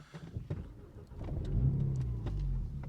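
A Renault Megane RS 300 Trophy's 1.8-litre engine cranks briefly and catches, settling into a low steady idle after a few faint clicks.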